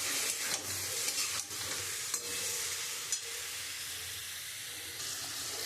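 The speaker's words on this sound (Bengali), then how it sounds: "তা আমি এরকমভাবে চাপা ঢাকা দিয়ে নাড়ব।" Loitta fish (Bombay duck) with salt and spices is stirred in a pan with no added water, and a constant sizzle is broken by a few scraping stirring strokes, close and without speech.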